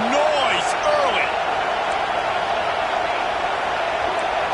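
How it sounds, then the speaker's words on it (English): Dense, steady roar of a stadium crowd at a football game, loud and continuous with a sharp whistle-like tone early on and a commentator's voice faintly over the din. "This crowd bringing the energy and noise early."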